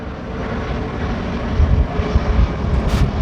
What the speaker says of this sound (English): Planes are always flying over.